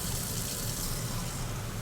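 Hot water pours steadily from a kitchen tap into a sink, a continuous broadband gushing rush that stays even and fairly loud throughout, heard alone.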